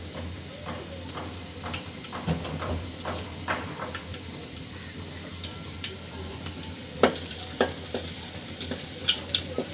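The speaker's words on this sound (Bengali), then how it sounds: "এখন আমি পাতিলের ভিতরে দিয়ে দিচ্ছি কিছু রসুন কুচি এবং আদা কুচি।" Chopped garlic and ginger fry in oil in a pot, a soft steady sizzle broken by frequent stirring clicks and scrapes from close by.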